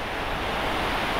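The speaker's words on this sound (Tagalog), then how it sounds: "May hangin kasing kasama." Strong wind gusting near a riverside construction site during rain, a loud steady broadband rush buffeting the microphone, with no voices.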